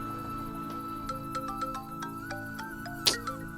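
Phone ringtone in a Hindi-dubbed South Indian film, a quiet melodic sequence of short electronic tones over a low steady hum, ending with a brief louder click.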